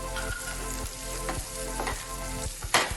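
Garlic and onion, with turmeric in the pan, frying for a traditional Gujarati green turmeric curry: a close, continuous sizzle with light stirring scrapes and one sharper clatter near the end, no voices.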